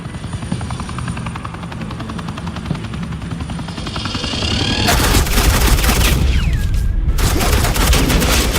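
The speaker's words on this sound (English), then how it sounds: "This is Agent Quinn, suppressing fire" Suppressing gunfire in the Batman Telltale Series video game, The Enemy Within: a loud, sustained burst of rapid automatic fire cuts in over a steady helicopter-like drone and rattles on for several seconds, briefly breaking off before resuming.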